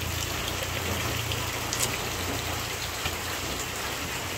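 Steady, dense rain hissing continuously, with a low rumbling undertone and no voices.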